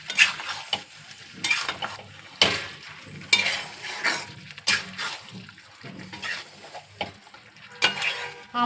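A spoon stirs cauliflower curry with ghee in a pan, giving bursts of sizzling and scraping strokes in an uneven rhythm, close and fairly loud, separated by brief quieter gaps.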